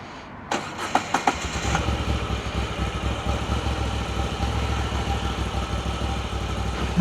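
A motorcycle engine cranks and starts, then settles into a steady, close idle before a ride. A few sharp clicks come at the start, and the rumble stays even throughout.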